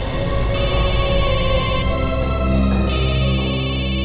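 A phone rings with a bright electronic tone in two bursts separated by a short pause, loud and close over a low background hum.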